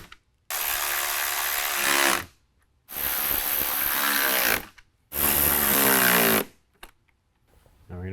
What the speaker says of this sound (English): Now you have these 4 10mm bolts to screw back in.